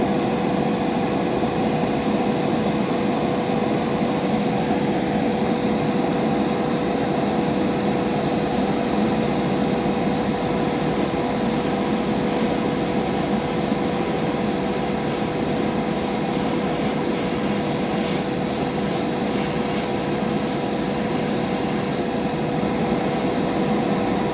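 A steady, continuous hiss from an Iwata Eclipse or Grex Genesis airbrush spraying paint runs unbroken for the whole stretch, with a few brief dips in the highest tones and no voices.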